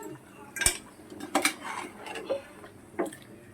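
Spoon clinks against a pot holding soaked rice and chicken curry, with a few sharp metallic taps and scrapes spread out over a few seconds in a quiet kitchen.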